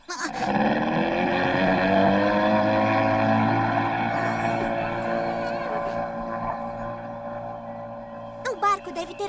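Cartoon boat engine, a strong steady motor drone with rising pitch at the start that holds for several seconds then gradually fades, with brief high squeaky effects and chatter near the end.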